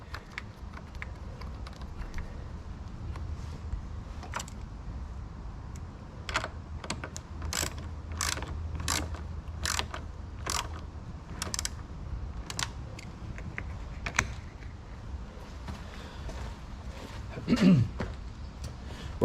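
A ratchet clicks in short bursts while tightening car battery terminals after an alternator replacement on a Ford BF Fairlane 5.4-litre three-valve V8, with sharp metallic ticks over a quiet workshop background and a clunk near the end.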